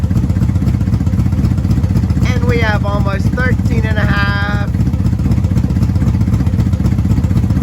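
A 1994 Honda Magna VF750C motorcycle engine idles steadily and close after a choke start, a constant low rumble, while someone speaks briefly over it.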